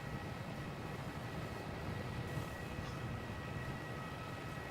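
A Jetstar airliner on the inbound Sydney service landing on runway 09 at Melbourne Airport, heard as a steady, distant broadband jet roar that holds level throughout with no talking.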